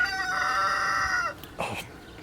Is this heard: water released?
no